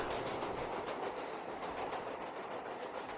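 Train passing in a film scene, a loud continuous rumble with rhythmic clickety-clack of railroad cars, steady and close throughout with no talk.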